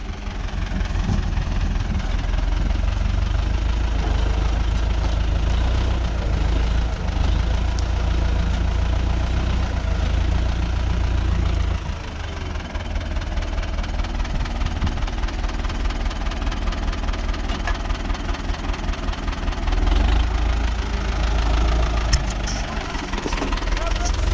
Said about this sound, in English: he's just moving that pile up as best as he can and scraping that bit of the yard as well